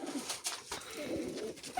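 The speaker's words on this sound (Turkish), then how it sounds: "Kümesin girişinde şöyle güzel hem süs güvercini karışık hem uçun güvercinleri karışık bir kümesimiz var." Mixed ornamental and flying pigeons in a coop in Bulgaria coo close by, with several soft, rolling coos and a few wing or scuffling noises in a short burst.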